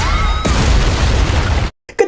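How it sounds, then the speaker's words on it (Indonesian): A laser blast destroys a door in an anime: a loud, sustained crashing blast with a dense burst of noise, then an abrupt cut to silence and a few short scattered noises. "Muncullah tembakan laser yang langsung menghancurkan pintu tersebut"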